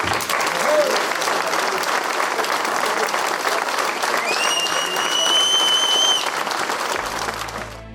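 A French charity event audience gives a volunteer a big, sustained round of applause, loud and continuous throughout. A whistled or tonal line rises briefly above the clapping near the middle.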